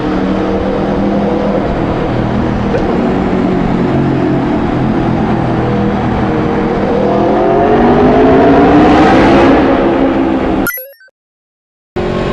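An Aprilia RSV4 RF liter sport motorcycle with a slip-on exhaust roars loudly and steadily, rising in pitch as it revs harder, then cuts off abruptly near the end.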